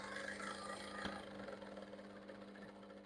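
A sewing machine stitches kimono-style bubu fabric with a continuous, even motor hum and whir that stays close and steady throughout.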